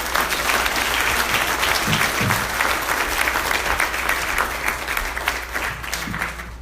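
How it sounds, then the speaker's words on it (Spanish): A church congregation applauds together in a hall, a dense, sustained wash of clapping from many hands that holds steady and only slightly eases toward the end. "Dale un aplauso al Señor."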